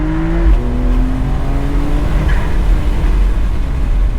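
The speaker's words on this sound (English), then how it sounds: "Let me just downshift now and give it some beats." A Porsche 992.2 Cabriolet on the Großglockner Pass mountain road downshifts and accelerates, its engine note climbing in steady rising harmonics over loud, continuous road and wind roar, with no talking.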